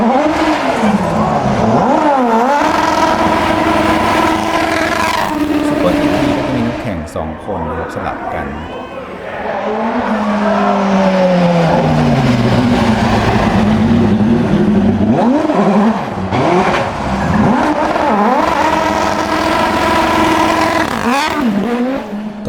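Super GT race cars at Red Bull Racing Day Tokyo in Japan, engines loud and close, revving and sweeping past with rising and falling whines, while someone talks over them.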